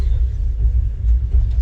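Two trains run side by side along the rail line on the Kathgodam to Howrah route, a loud, deep continuous rumble rolling close by.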